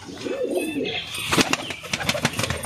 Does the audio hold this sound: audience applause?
no